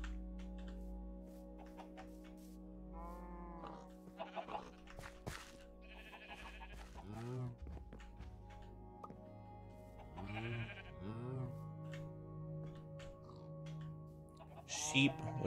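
Sheep bleats from the video game Minecraft with the SevTech: Ages modpack, several wavering bleats spread across a quiet stretch, soft and mid-distance, with occasional talking and a steady background hum.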